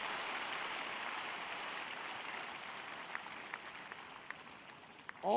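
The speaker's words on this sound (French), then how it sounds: "give the Lord a big hand of praise." A church congregation claps together in a steady, dense patter of applause that holds at an even level, with a few sharper individual claps standing out near the end.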